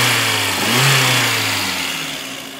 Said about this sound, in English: Engine runs solid. It's a well-running engine.